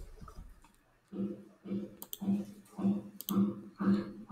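A computer mouse clicks in an evenly spaced series of six crisp, close taps, after a brief quiet breath-like noise at the start.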